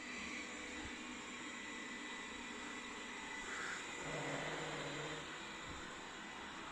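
A Xiaomi Mi Robot Vacuum-Mop Pro runs with a steady, low whirring motor hum and a faint brushing hiss, constant throughout with no speech.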